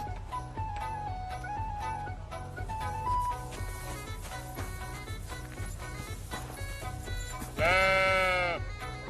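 A sheep in the video game Kingdom Come: Deliverance II lets out one clear, wavering bleat near the end, rising over a steady, rhythmic soundtrack song playing throughout.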